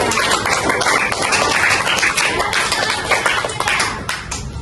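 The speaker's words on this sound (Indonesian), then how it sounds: "Tepuk tangan buat Kajar" A sixth-grade class claps for a student who answered correctly, a burst of many small hands clapping close and loud in a room, thinning out toward the end.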